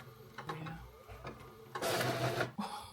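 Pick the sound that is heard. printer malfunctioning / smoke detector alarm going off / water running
printer malfunctioning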